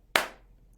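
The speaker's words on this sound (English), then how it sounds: "clap your hands" A single sharp, loud hand clap rings out close by and decays quickly into a quiet room, followed by a faint small sound, with no speech.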